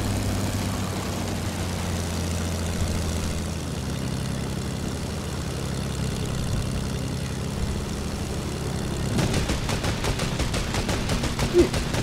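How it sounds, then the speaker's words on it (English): Fortnite battle royale scene with a droning aircraft engine throughout, then a burst of rapid gunfire near the end, the shots fairly close and sharp over the steady hum. "Look, he's shooting at teammates, trying to get their attention."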